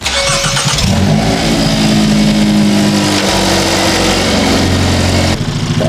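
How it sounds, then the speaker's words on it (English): Cold start of a 2023 Hyundai Elantra N engine, a loud, steady, close roar that rises sharply after the first second and holds at a high idle before dropping slightly at the end. "it's gonna be a cold start right now, guys. So it's gonna be pretty freaking loud."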